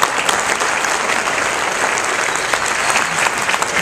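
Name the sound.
audience applause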